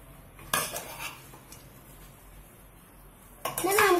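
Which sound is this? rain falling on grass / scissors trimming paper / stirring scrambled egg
stirring scrambled egg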